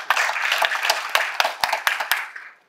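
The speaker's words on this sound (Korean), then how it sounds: "박수 한번 부탁드립니다." Audience applause at an anniversary ceremony and forum, a dense, steady crowd clapping with sharp individual claps standing out, sustained and then tapering off near the end, with no talk over it.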